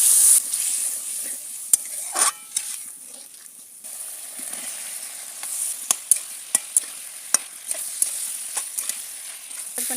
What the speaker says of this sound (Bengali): মশলা ভালো করে কষিয়ে নেওয়ার জন্য দিয়ে দেবো একটু পানি।